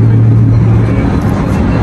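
A loud sports car engine idling with a deep, steady rumble on the floor of the Brussels motor show, close by and continuous throughout.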